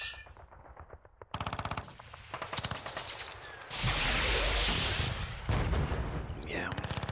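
Tank gunfire in the Panzer Battles North Africa 1941 war game: sharp rapid bursts of machine-gun rattle, then a loud sustained roar of fire and explosion, with more clipped bursts at the end.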